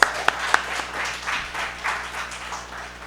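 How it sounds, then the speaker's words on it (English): An audience at a speech festival applauds, opening with a few sharp, close claps before settling into a steady, moderately loud wash of clapping from the crowd. "let us put our hands together, please."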